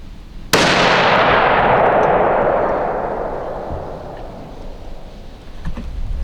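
A single loud .30-06 rifle shot fires 168-grain Federal Premium Berger Hybrid Hunter ammunition, a sharp crack followed by a long, rolling echo that fades over several seconds outdoors.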